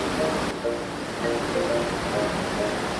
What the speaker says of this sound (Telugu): ప్రకృతిలో ఏర్పడినటువంటి ఈ సుందరమైనటువంటి వాటర్ ఫాల్స్ని చూడండి